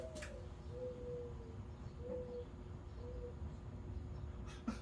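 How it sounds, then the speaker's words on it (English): Owl hooting near a house, a soft low hoot repeated three or four times at a steady pace, faint under a constant background hum with distant birdsong. "Not sure why I have an owl, but for some reason I have an owl that lives outside my house."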